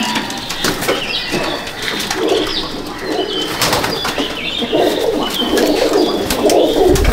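Pigeons coo repeatedly at a loft in Icchapur, North 24 Parganas, soft throaty calls overlapping close by, with occasional wing flaps and sharp knocks amid a busy background.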